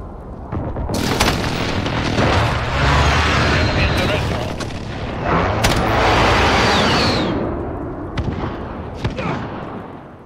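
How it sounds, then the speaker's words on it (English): Airstrike explosions in a video game roll out as a long, loud, rumbling wall of booms and blasts, swelling and fading with scattered sharp cracks on top. "Allies receive an airstrike incoming."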